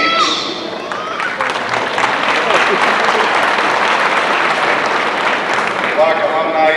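At a graduation ceremony, the audience applauds as scholarship awards are announced, broad, sustained clapping that builds after a voice over the speakers and carries on to the end.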